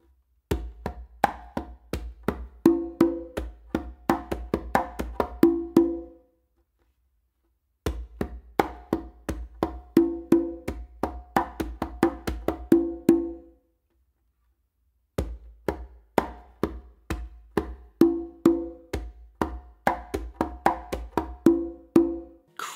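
Congas playing a full tumbao pattern with both parts combined, a steady rhythmic groove of open tones and slaps repeated in three close, loud phrases separated by brief pauses.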